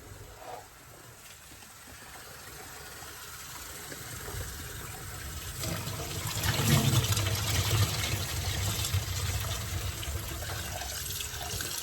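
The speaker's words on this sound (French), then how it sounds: "je vais le laver comme ça à l'eau froide" Cold tap water runs steadily over food being washed, a continuous splashing rush that grows louder and fuller midway as the stream hits the food and the sink, no voices.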